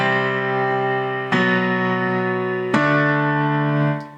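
Sustained piano octaves struck three times, each attack ringing out with rich harmonics before the next, loud and close with no voices.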